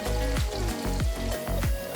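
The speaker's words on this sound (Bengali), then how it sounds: "কাটা উচ্ছেগুলো বড়ি ভাজার তেলেই দিয়ে দিলাম" Cut bitter gourd frying in hot oil on medium flame, a steady close sizzle with small pops and crackles throughout.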